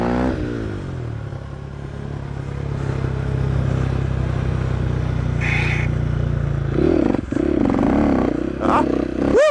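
A motorcycle pulls away and accelerates through third into fourth gear, its engine note climbing in pitch close by, then breaking into rougher revving bursts near the end.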